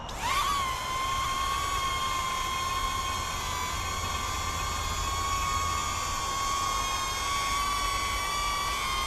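A Neo 1 drone climbs upward with a high, steady whine of spinning props that rises in pitch at lift-off and then holds even and loud, alone with no talking.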